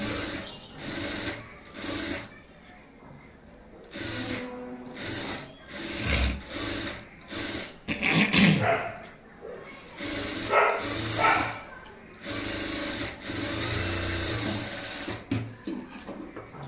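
Sewing machine stitching blouse fabric folded over canvas, for a high neck blouse, in repeated close whirring runs broken by short stops and mechanical clicks, loud and near.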